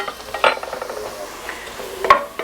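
A spoon scrapes and stirs a tablespoon of flour into cooked onions in a pot for a roux, with a few clinking knocks against the pot over a soft background sizzle.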